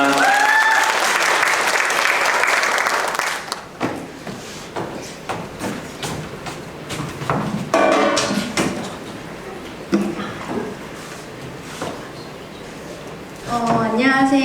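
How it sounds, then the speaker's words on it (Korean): An audience at an end-of-semester school gathering claps loudly for about three seconds, then the applause fades into scattered room noises and brief talk, with a short burst of clapping again near the end. "박수 부탁드립니다."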